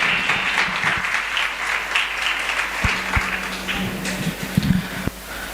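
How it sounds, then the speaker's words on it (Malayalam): An audience breaks into applause for a good question during a talk on Islam, a dense continuous clapping that stays strong for several seconds before thinning toward the end. "ക്വസ്റ്റ്യനൊരു കൈയടി."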